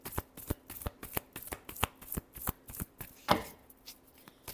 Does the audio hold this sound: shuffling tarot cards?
yes